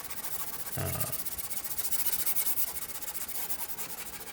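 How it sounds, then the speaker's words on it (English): Soft, steady rubbing of 120 grit sandpaper taking white wood filler off a Firebird kit guitar body, a continuous faint hiss with rhythmic strokes and a brief heavier rub near the start. "I'm just using 120 grit sandpaper to get the wood filler, that's that white material off"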